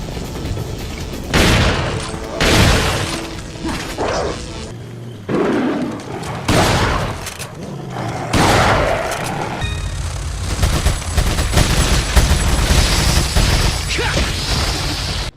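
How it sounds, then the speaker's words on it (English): Gunfire and explosive blasts from Resident Evil 4, loud and repeated in irregular bursts, with roaring creature noises mixed in and a dense, sustained din in the later part. "When it comes to the sound of the guns firing, the explosion of one's head, or the noises creatures make,"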